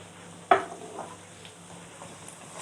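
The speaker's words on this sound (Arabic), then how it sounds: "نديها تقليبه كده" A utensil stirs sautéed onions and sugar in a pan, starting with one sharp scrape or knock against the pan, then a soft, low sizzle with faint shuffling.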